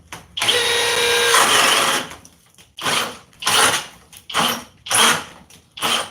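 A Milwaukee or Flex power tool roars hard and loud in a speed test, first a sustained straining run of about a second and a half, then several shorter bursts revving up and cutting off with brief pauses between.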